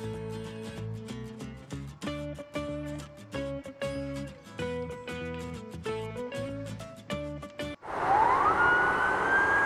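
A police car siren bursts in loud and close after a stretch of unrelated melodic music, its rising wail sweeping upward over a noisy engine-like roar until the end.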